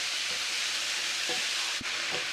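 Fajita vegetables sizzle and char in an overcrowded pan, a dense, steady frying hiss up close with a few soft stirring knocks.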